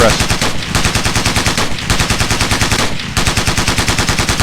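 Rapid sustained automatic gunfire in a Ghost Recon Navy SEALs training exercise, loud close rhythmic bursts of evenly spaced shots with two brief gaps between strings of fire.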